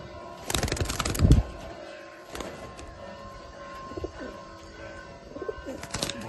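Pigeons in a loft give soft, low cooing calls against a busy background of scuffling, flapping and clattering, with a loud burst of flapping near the start and scattered knocks throughout.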